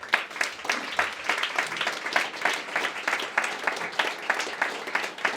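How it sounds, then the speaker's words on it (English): An audience applauds startup founders who have been called back onstage at a 2021 showcase event. The clapping is brisk and continuous, with sharp individual claps standing out over a dense crowd bed throughout. "we're going to give them a big round of applause again"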